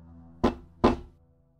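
Two sharp knocks of a finger tapping on wood, about half a second apart, each a dry close thunk, with near silence between and after, used as a horror sound effect.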